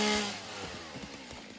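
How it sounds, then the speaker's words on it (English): A chainsaw in the factory-building video game Satisfactory revs and buzzes while cutting down plants, a steady mid-pitched engine whine with small pulsing surges, moderately loud and heard alone. "So now we've got the chainsaw."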